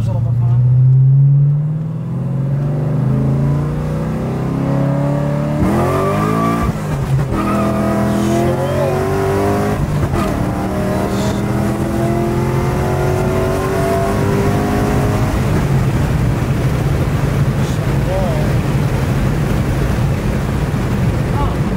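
An LS3 V8 with a stage 4 cam revs and accelerates hard up close, a deep loud roar climbing through gears with rising and falling pitch sweeps, under occasional voices.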